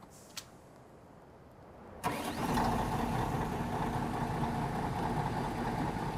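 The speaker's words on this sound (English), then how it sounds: "Engine sounds good." A truck engine in Farming Simulator 15 cranks over after a quiet start and settles into a steady mid-pitched idle, an even rumble that continues to the end.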